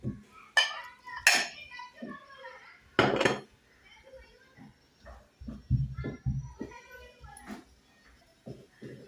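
Jowar flour upma being served onto a plate, with several sharp clinks of a spoon and utensil against the dish, close by, spaced out amid soft scraping and handling noise.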